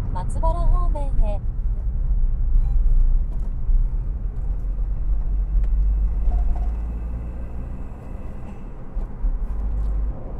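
Honda S660 driving on a Japanese expressway, a steady loud low road and engine rumble throughout, with a brief chime of tones at the start.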